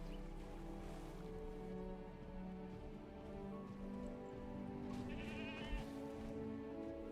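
Goat bleating in Jurassic World Evolution 2 sandbox mode, a few bleats over a steady, dense bed of game ambience with rain-like hiss, fairly close and moderately loud, no speech.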